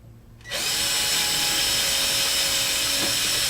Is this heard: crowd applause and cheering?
no